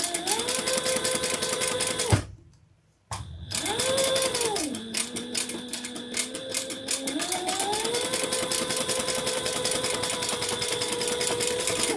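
Sewing machine stitching a custom bag with chocolate brown thread along long edges, a steady close mechanical rattle with rising and falling motor whine, one brief pause near the start, then continuous running.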